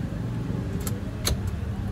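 A key turns in the ignition of a 1997 Toyota Kijang, two brief bright metallic clicks and jingles close by over a low steady background hum.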